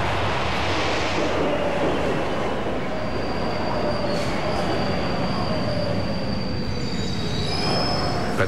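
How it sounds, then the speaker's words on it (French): A subway train pulls into Fulton Street station in Manhattan with a loud continuous roar and rumble, steel wheels squealing in long high tones throughout. "Patricia Massali arrive à la station de métro Fulton Street à Manhattan"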